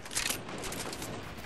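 A quick, dense burst of video game gunfire crackles with rapid overlapping shots over a short span at moderate distance, with no voices over it.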